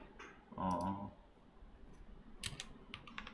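Quiet typing on a computer keyboard, scattered key clicks in short irregular clusters, with a brief low murmur of voice near the start.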